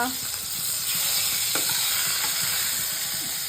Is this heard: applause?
no